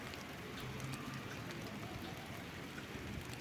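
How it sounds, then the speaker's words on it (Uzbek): Steady rain falls under overcast skies in a rural area, a soft, even wash of patter that continues without a break and stays moderately quiet throughout. "Bizda havolar bulut, yomg'ir yog'yapti."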